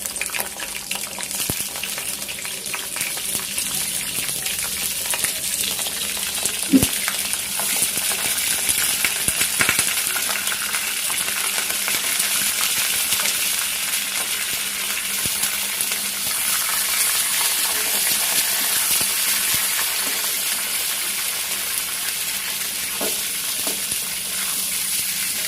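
Chicken pieces fry in a pan with bay leaf, a continuous hiss and sizzle of hot oil throughout, with occasional clinks and stirring knocks of a utensil, no talking.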